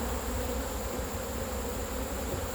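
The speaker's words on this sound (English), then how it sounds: "Holy crow, that's a lot of bees." Dense honeybee buzzing swarms around an opened hive during a summer inspection, a steady, loud, close drone that holds without a break throughout.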